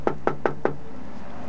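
Four crisp, evenly spaced knocks on a solid real-wood cabinet door inside a high-quality motor coach, close and sharp, followed by quiet room tone.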